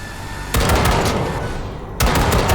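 Automatic gunfire during weapon calibration in the game Cyberpunk 2077, two loud sustained bursts of rapid shots, the second starting after a brief break, close and forceful.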